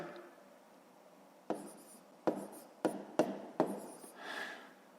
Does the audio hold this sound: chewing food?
no